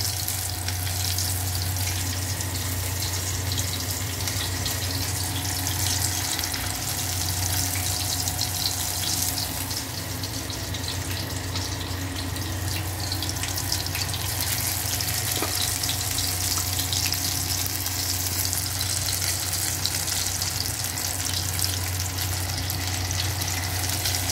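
Topse fish pieces, washed and rubbed with salt, turmeric and lemon, go one by one into hot oil, raising a loud, dense, continuous sizzle that holds steady throughout.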